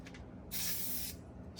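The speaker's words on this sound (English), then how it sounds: "Spray the whole paper." An aerosol spray can blasts adhesive across a sheet of paper during a woodworking craft session, one steady hiss lasting about half a second, fairly close, with a softer spray at the very end.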